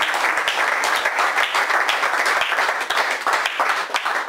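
A church congregation at a baptism service applauds in dense, sustained clapping that fills the space steadily for several seconds, with faint voices mixed in.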